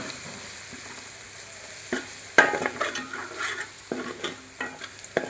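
A spoon scrapes and stirs through a frying dish after two spoons of chilli powder go in, with soft sizzling underneath and a run of distinct clacks and scrapes against the pan, close by and with no talking.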